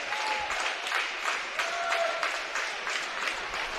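Crowd clapping in the stands at a high school wrestling match between Roseburg and Grants Pass, a rhythmic, fairly loud team clap with pulsing bursts and scattered shouts, echoing in a gym.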